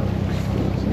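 A boat out on a tour off a beach resort coast near Icmeler, Turkey, sounds as a steady loud engine drone mixed with rushing wind and water noise, continuous with no pauses.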